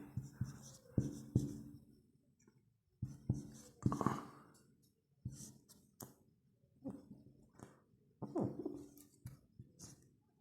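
A teacher writes a tally table on a classroom board in short scratchy strokes and taps that come in clusters with brief pauses between them, close and fairly quiet.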